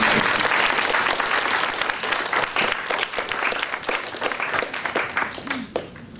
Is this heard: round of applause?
yes